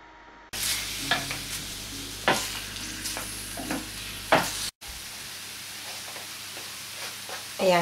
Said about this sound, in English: I just find it easier to stir fry using this skillet.